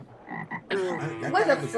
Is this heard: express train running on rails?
no